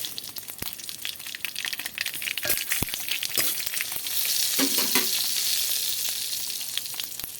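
Dried red chillies, mustard seeds and five-spice tempering hitting hot oil in a pan for a sour-sweet chutney, bursting into a loud crackling sizzle with sharp pops and spatters that swells midway, with a light stir.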